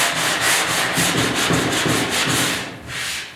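A hand sanding block rubs back and forth over filler on a 1972 Ford 4x4 short box truck bed repair, a series of rhythmic, close, raspy strokes that slow and fade near the end.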